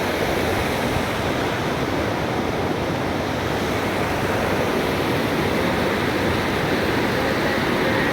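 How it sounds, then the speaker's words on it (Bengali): Floodwater rushing through a broken river embankment, a loud unbroken roar of churning water filling the whole scene without a pause. "দেখো কি অবস্থা, জলের কতটা স্পিড"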